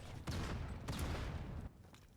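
Grenade blasts and gunfire in the mobile shooter Modern Combat 5 during a competitive iOS match: a few heavy bursts of explosive, crackling fire in quick succession, fairly faint and distant.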